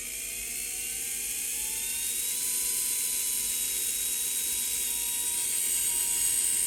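A small slot car motor, a JK Hawk 7 on a JK C43 Aleos chassis running at 5 volts, whirs continuously with a high, slowly rising whine, steady and close, with no voices.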